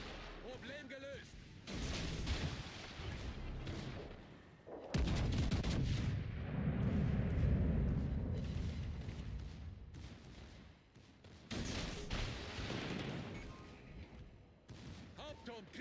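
A warship's secondary guns firing in World of Warships Legends, heavy booming shots and rumbling blasts repeating through the clip, loud and close, with speech in the game mixed in.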